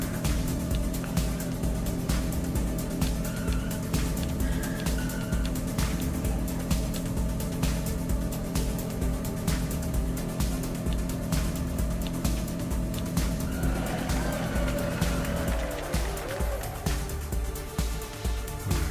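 A race car in the 80's Overdrive video game drives on with a steady, buzzing engine drone that holds for the whole stretch, shifting pitch slightly near the end, with no talk over it.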